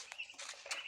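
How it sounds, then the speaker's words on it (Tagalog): Pigeons kept in a coop with eggs about to hatch give faint, soft chirping calls in short bursts across under a second, with no talk. "May mga kalapati pa po ako dito eh."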